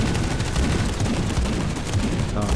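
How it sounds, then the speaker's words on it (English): Redemption Bolter fire in a Warhammer 40K video game, a dense continuous barrage of heavy booming shots layered over each other, loud and close, with a voice faintly underneath. "The thudding, just the roaring boom of the Redemption Bolter is so good."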